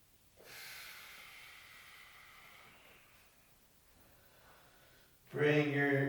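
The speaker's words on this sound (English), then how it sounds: "Two more deep breaths" Deep breathing during yoga comes through as a long, slow, airy inhale close to the microphone that fades over several seconds, followed by a sharper, louder voiced exhale or snort at the end.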